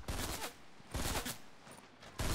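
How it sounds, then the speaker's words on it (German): Bursts of Fortnite gunfire coming from behind the player, three sharp loud volleys spaced a second or so apart, fairly close, with little else in between. "Von hinten, zwei Schüsse."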